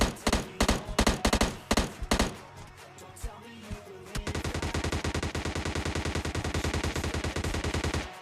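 S12K shotgun fire in PUBG Mobile Lite, a cluster of loud close blasts early on, then a dense, rapid string of steady gunfire bursts after a brief lull with scattered single shots.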